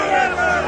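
A dramatized crowd cries out together in a biblical scene of chief priests stirring up the people, a dense, loud, sustained shout of many voices.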